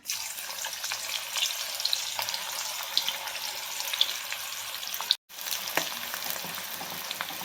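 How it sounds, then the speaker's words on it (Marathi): Finely sliced onions frying in hot oil for an egg dum biryani garnish, a dense, even crackle and hiss close up, with a brief cut near the end before the sizzle resumes. "तेल गरम झालेलं आहे. त्यामध्ये आपण हा कांदा टाकून घेऊया."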